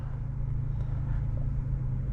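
A manual car creeps away on flat ground as the clutch is slowly released with no throttle, giving a low, steady engine hum and drivetrain rumble heard from inside the cabin, quiet and even.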